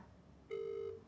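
A single short electronic tone sounds clearly, a steady beep like a phone line ringing, over faint background hiss.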